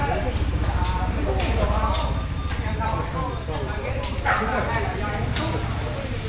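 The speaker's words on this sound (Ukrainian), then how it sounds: "там песики в кліточці сидять." Small caged dogs yapping repeatedly in a Vietnamese village, sharp overlapping barks over a busy background with people talking nearby.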